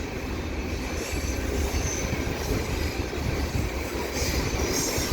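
A mixed freight train with coil steel cars rumbles past close by at speed with steady, loud rolling noise and faint wheel squeal, continuous throughout.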